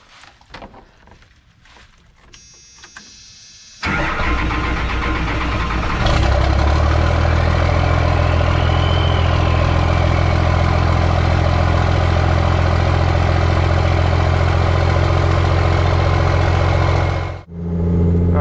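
12-valve diesel truck engine cranking briefly, then firing up into a loud, heavy, steady idle that drones on close by before dropping off near the end.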